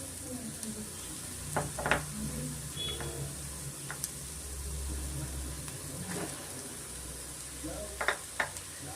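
Garam masala and mashed potato fry in a pan for vegetable bread pakoda, a soft sizzle under intermittent scraping and stirring clinks, with a few brief clatters of utensils.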